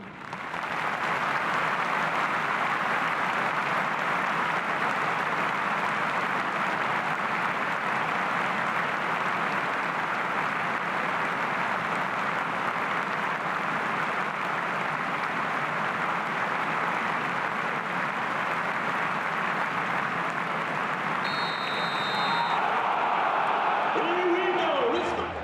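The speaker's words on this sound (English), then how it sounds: "We will now have a minute's applause for David, which will end on the referee's whistle." A stadium crowd holds a minute's applause for former goalkeeper David Best before an Ipswich Town versus Stoke City match, a broad, sustained roar of clapping at steady loudness that fades near the end as a whistle sounds.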